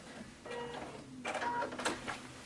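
A sewing machine runs a decorative stitch across a baby quilt, a quiet whirring hum that starts and stops in short bursts with light mechanical ticking, close by and with no voices.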